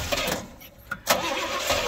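A 1972 Pontiac LeMans Sport convertible engine with a 650 carburetor cranks in short bursts, then catches and roars to life, settling into a steady rumble nearby.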